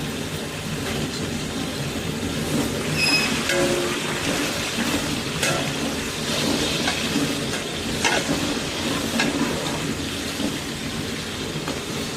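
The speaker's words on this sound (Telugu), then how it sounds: "ఉల్లిపాయలు గోల్డెన్ బ్రౌన్ కలర్ వచ్చేంత వరకు వేగనివ్వండి" Onions fry for bagara rice in a large batch, a dense continuous sizzle that holds steady throughout. Occasional stirring scrapes cut through, with no voices.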